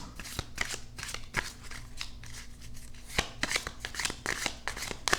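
Tarot cards being shuffled in quick riffling bursts, a series of crisp snapping and fluttering sounds repeating irregularly, close by and fairly quiet.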